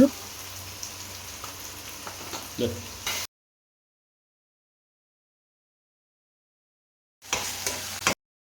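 Onions frying in a pan with chili and a pinch of salt sizzle steadily with stirring scrapes, cutting to silence midway and returning briefly at the end, with a voice speaking over parts of it.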